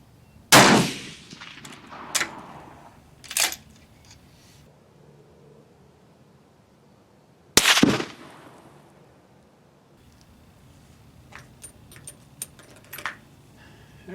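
Steyr rifle fires Berdan-primed 165-grain SST handloads at an outdoor range, with two loud sharp reports several seconds apart plus smaller bangs and clicks between, set against quiet background.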